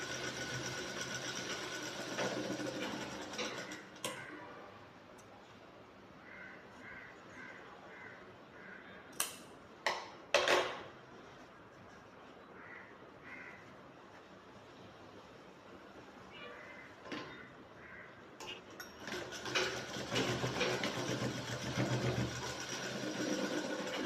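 A sewing machine stitches a collar shirt piece in short, faint runs of rapid whirring, separated by quiet pauses and a few sharp clicks, with a voice talking at times.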